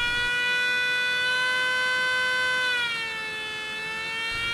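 A small 3D-printed air raid siren with a single rotor, driven by a fan motor salvaged from a mosquito repeller, wails a steady sustained tone that dips slightly in pitch near the end.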